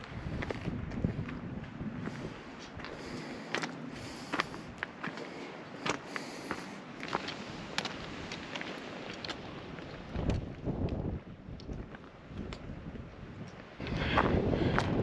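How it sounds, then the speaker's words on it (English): Wind gusts buffet the microphone on a mountain pass in Glacier National Park, approaching Triple Divide Pass, a rough, rushing roar that rises and falls over a long stretch, with no talking. "Pretty windy."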